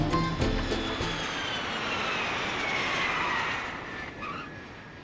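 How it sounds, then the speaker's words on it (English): An aircraft at Canberra Airport roars as a broad, steady engine rumble with a rising whine that sweeps past and then fades near the end, with no talk. "This is Canberra Airport."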